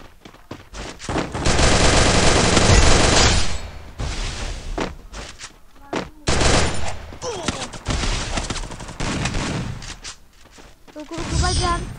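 Bursts of rapid automatic gunfire and heavy booms from the video game Free Fire, played on PC, come in loud, dense volleys, with pauses between, while a voice talks over the shooting.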